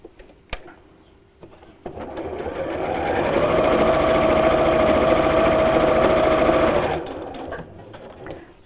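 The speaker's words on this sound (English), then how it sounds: "Then I'm going to sew all the way around the edge, again with my 1/4 inch seam allowance." A sewing machine runs steadily for about five seconds, stitching a 1/4 inch seam around the edge of a patchwork pin cushion, ramping up and then stopping, with light handling clicks before and after.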